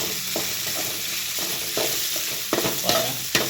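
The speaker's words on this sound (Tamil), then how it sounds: "நம்ம நல்லா வதக்கணும், எண்ணெயிலே வதக்கணும்." Potatoes sautéing in oil in a pan on the stove, with steady sizzling and the repeated scrape and stir of a spatula against the pan, close and continuous.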